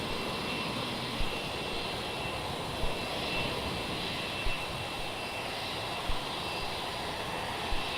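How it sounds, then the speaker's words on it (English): An Airbus A330 jet airliner departing Melbourne Airport sends out a steady, loud engine roar that holds evenly throughout, with no voices. "Heading off to Manila. The Airbus A330."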